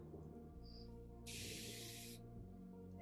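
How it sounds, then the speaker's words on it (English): A single close spray bottle of hair product hisses in one burst of just under a second against quiet room tone. "I'm just gonna spray."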